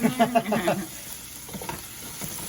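Garlic sizzles in butter in a pan for coq au vin, a close crackling fry with a burst of voice at the start before the sizzle continues more quietly on its own.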